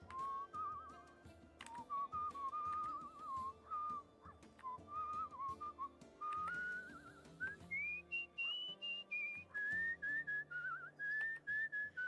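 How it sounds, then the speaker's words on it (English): A character whistles a wandering melody in the video game Where the Water Tastes Like Wine, a steady, clear tune that rises and falls over soft background music for about twelve seconds. "We're just gonna whistle a little bit."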